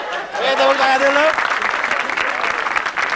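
An audience breaks into loud, dense applause that builds and holds steadily, with a voice speaking over the start of it.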